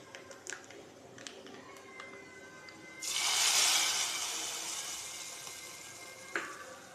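Fenugreek, curry leaves and shallots hit hot tempering oil with a sudden loud sizzling hiss that slowly fades. Faint clinks of utensils come before it and a single sharp clink comes after.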